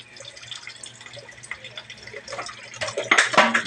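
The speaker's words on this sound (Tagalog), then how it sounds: "marunong na maghugas ng plato" A five-year-old washes plates under a running tap, with water splashing and dripping against dishes, growing louder and busier toward the end.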